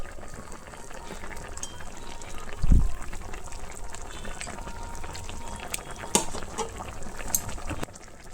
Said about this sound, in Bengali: একটু ফুটে যাক